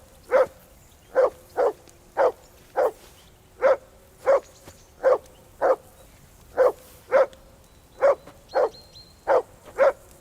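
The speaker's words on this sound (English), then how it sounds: "Whistle at that mutt of yours to stop barking." A dog in the medieval role-playing game Kingdom Come: Deliverance II barks steadily, about fourteen short, evenly spaced woofs over roughly ten seconds, moderately loud against a quiet background with no talking.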